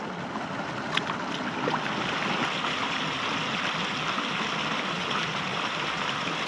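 Steady, full rushing of a rocky river flowing over big pebbles through a gorge on the Isle of Skye, a constant close wash of water with a few small splashes.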